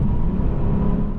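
Engine of a 2016 Lexus RC 300 F Sport AWD while driving, a steady, smooth low hum heard from inside the cabin, close and even for a short moment with no talk.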